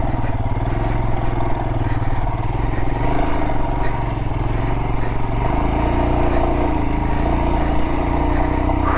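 Motorcycle engine revving steadily and loudly on a rocky canyon jeep trail, a continuous close throttle drone with clattering over rough ground and no talk.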